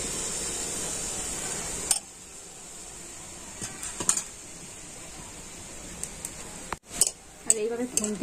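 Mango poa pitha frying in hot oil gives a soft sizzle under sharp metallic clinks and scrapes of a spatula against the pan, which come in scattered bursts near the microphone.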